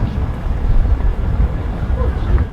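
Steady low rumble of a passenger train riding on its rails through high snowy mountain country, heard from inside a carriage as a continuous, fairly loud rolling drone with no talk over it.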